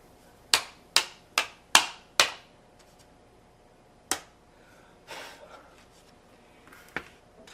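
A glitter-covered greeting card is tapped against a surface to knock off loose Ruby Red glitter, making five quick sharp taps followed by a few scattered softer knocks, close and alone.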